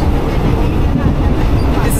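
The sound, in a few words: third class train running in Thailand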